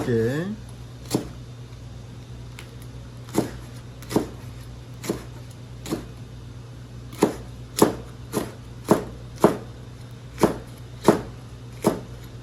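A kitchen knife finely mincing ingredients on a cutting board for a simple boiled pork belly dish, sharp single chops spaced out at first, then a quicker regular rhythm, over a steady low hum.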